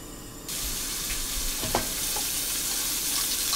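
Six seasoned shrimp, a bit larger than cocktail shrimp, fry in a hot pan with a steady, close sizzle that starts abruptly, with a few soft clinks and stirring sounds over the crackle.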